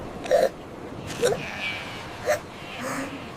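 A lamb on a beach hiccups four times in short, evenly spaced bursts, each hiccup brief and fairly close over soft background noise.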